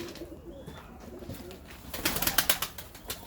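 A pigeon coos softly in low, repeated throaty calls, followed by a burst of louder rustling and flapping nearby.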